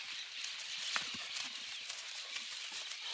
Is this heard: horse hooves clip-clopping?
yes